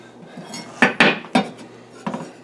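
Parsley and yogurt being stirred into tzatziki in a bowl, heard as a few sharp utensil clinks and knocks against the dish, three louder strikes close together and a softer one a moment later, alone with no talking.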